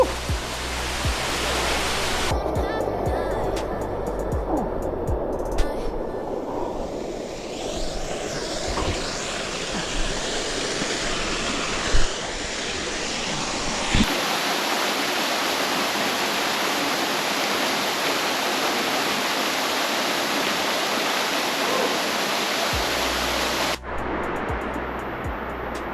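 A hidden waterfall reached by climbing ropes gives a loud, continuous rushing roar of falling water that stays steady throughout and fills the whole scene.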